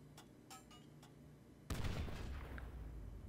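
A grenade blasts in Call of Duty: World at War custom zombies, a sharp sudden burst near the end after some faint clicks and taps, its boom and debris rumble decaying briefly.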